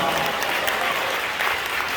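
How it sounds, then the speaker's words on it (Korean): Dense, steady applause from a crowd fills a short stretch at a press conference honouring a vice minister, loud and continuous from start to finish without any break. "우리 차관에게 박수 한번 하겠습니다"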